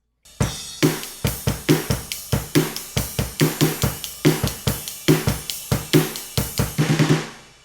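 A drum kit plays a steady, punchy groove with regular kick and snare hits and bright cymbals washing over the top, loud and close.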